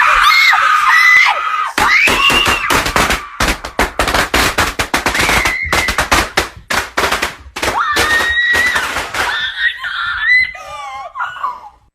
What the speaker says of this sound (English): just lights a pack of firecrackers, drops it near his sister, and walks away.